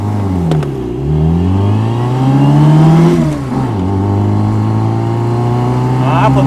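A Reliant Rialto three-wheeler engine revs hard and close, its pitch climbing through gears with a brief drop between shifts while racing a Toyota C-HR; voices talk over the drone.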